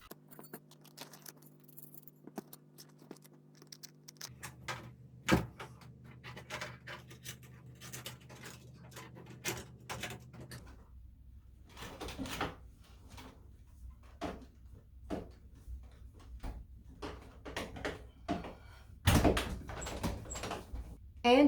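Over-the-door organizer for hair products, fitted with four hooks and small springs on the back, being hung over a front door: scattered clicks, jangles and scrapes of metal against the door, with a few sharper knocks near the end.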